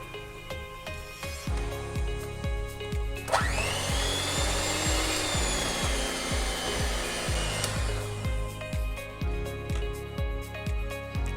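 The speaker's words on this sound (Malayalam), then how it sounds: "ഇനി നല്ലതായിട്ട് അടിച്ചെടുക്കുക" A beater whirs loudly for about four seconds, mixing lime cake batter of sugar, egg yolks and refined oil, against a rhythmic tapping background.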